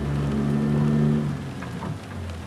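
Heavy rain and a low thunder rumble fill a night drive in American Truck Simulator, a steady hiss over a deep drone from the Ruda 389 Glider truck's engine, with no talk.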